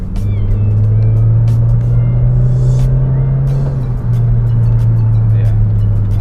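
Deep, smooth engine hum inside the cabin of a Honda Civic FD1 Type-R while driving, a steady low drone with slight shifts in pitch, with voices talking over it.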